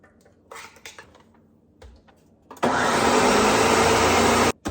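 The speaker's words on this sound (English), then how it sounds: "as soon as you put the condensed milk in, you got to turn the blender on" A blender whirring steadily as condensed milk is mixed into homemade Irish cream, loud and close, running for about two seconds after some light kitchen clatter and then cutting off abruptly.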